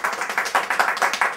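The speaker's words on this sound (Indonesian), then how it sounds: "Tepuk tangan untuk dia." A small group claps in a quick, uneven rhythm of distinct hand slaps, close and moderately loud, with no talking, at a family gathering during a Hari Raya celebration.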